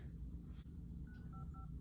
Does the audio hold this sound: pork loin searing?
no